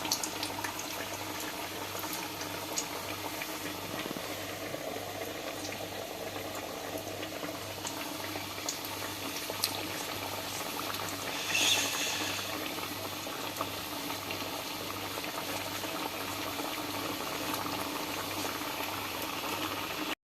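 Briouats frying in hot oil at medium heat, a dense steady bubbling and crackle that runs continuously at a moderate level, with no talk.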